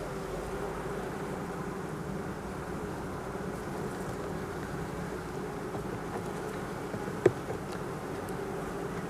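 Honey bees buzz around the hive comb on a dull day, a steady close droning hum throughout with one brief sharp tick late on.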